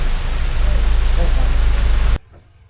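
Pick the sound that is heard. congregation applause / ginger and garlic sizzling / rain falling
rain falling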